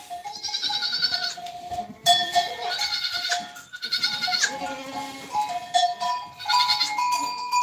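Goats bleat repeatedly and close by, mixing high, wavering cries from a newborn kid with deeper adult calls, overlapping in a steady stream across the barn with no pause.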